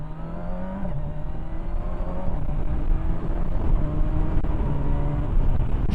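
A Kawasaki Versys 1000 SE motorcycle pulls away in first gear, its engine note climbing steadily in pitch under a constant rush of wind noise, with no talk.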